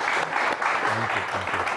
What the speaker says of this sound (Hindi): एक बार तालियां बनती हैं इनके लिए।